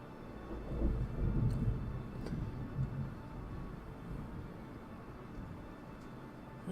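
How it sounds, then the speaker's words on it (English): Distant thunder rolls low and rumbling through a storm, swelling early then fading into a soft steady wash of rain, faint and without voices. "You all might be able to hear the thunder and the rain."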